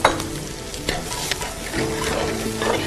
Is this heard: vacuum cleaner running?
no